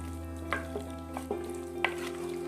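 Chicken pieces for a hot and spicy Tamil-style dry roast are stirred and mixed in a pan, giving a few soft scraping strokes over a steady low background, with no talking.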